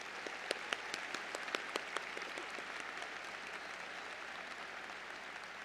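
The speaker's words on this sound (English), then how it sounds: "Let's give everyone a round of applause for their contributions." Crowd applause at a spring 2010 university commencement ceremony, a broad, fairly distant wash of clapping with a few sharper nearby claps standing out early on, continuing evenly throughout.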